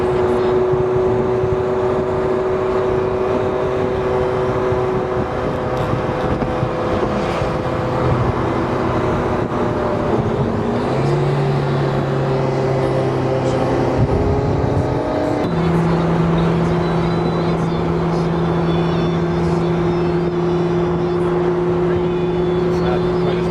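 Ferrari engine droning steadily nearby, its pitch stepping down and up between gears as the car moves along, loud and continuous throughout with no talk over it.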